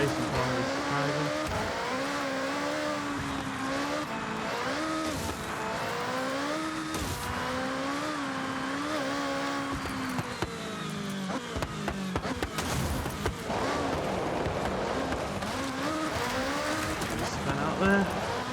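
A 1987 Porsche 961 race car drives offroad in Forza Horizon: its engine revs and drones continuously, with occasional tire squeal and bumps, while a voice talks over it throughout.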